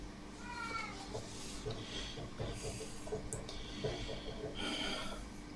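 A house cat meows near the microphone at a workbench, several short cries and snuffling breaths spread across the stretch, with soft sounds from the room underneath.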